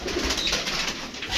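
A domestic pigeon coos softly nearby, a short low burbling call in a quiet setting, with no talk over it.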